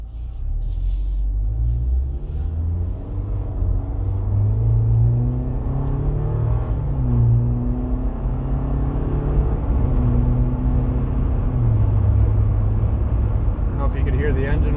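A 2020 Jeep Wrangler with a 2.0L turbo four-cylinder accelerates, its engine note climbing and shifting in a steady interior rumble that lasts throughout. Talking runs over the engine sound.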